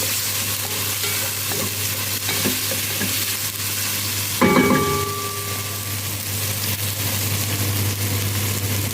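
Garlic and ginger fry in a pan for Saudi chicken kabsa, a continuous loud sizzle with a brief stirring clatter midway and a steady background hum.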